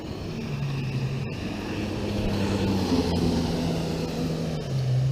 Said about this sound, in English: Here comes another boat, or it sounds like a jet ski.